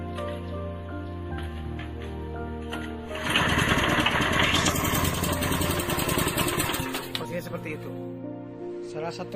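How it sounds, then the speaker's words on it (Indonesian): A pellet-making machine starts up partway through after a quiet stretch with a faint voice, then runs loudly with a dense mechanical whir and rattle before easing off near the end. "Kemudian mesin bisa langsung dihidupkan."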